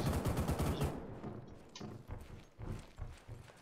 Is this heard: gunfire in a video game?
yes